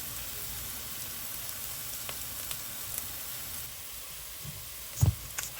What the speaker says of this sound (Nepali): मजाले चलाउँदै भुट्दै